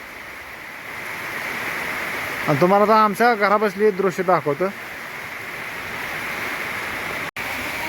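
Steady heavy monsoon rain hisses around a house with coconut trees in the yard, a dense, constant wash of sound that someone talks over for a couple of seconds midway.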